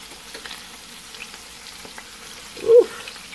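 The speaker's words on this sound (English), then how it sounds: "See, grease just popped on me." Hamburger patties fry quietly in a pan, a soft crackling sizzle across the clip punctuated near the end by one distinct loud pop of grease.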